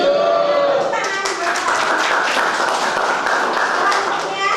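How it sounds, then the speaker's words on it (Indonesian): Students in a classroom clap their hands together in a brief burst of applause, with voices chattering over the clapping throughout. "Setuju. Tepuk tangan."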